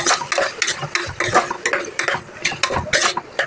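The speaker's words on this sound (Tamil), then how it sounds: "மட்டனை சேர்த்து நல்லா ஒரு கிளறிக்கோங்க" A metal spoon scrapes and clatters rhythmically against a pan as mutton and tomatoes are stirred together, loud and close, with no talking.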